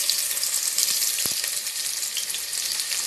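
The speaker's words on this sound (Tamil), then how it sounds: "வெங்காயம் போட்டுட்டு ஒரு கிண்டிட்டு பெரிய கண்டியை வச்சு கிண்டணும்." Onions sizzle in hot oil in a pan with a bright, steady hiss, while a couple of soft knocks from stirring cut through near the middle, with no talk.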